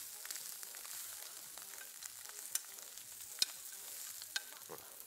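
Food frying in butter in a pan, a soft, faint sizzle with occasional light clicks and taps from a utensil, quiet and without speech.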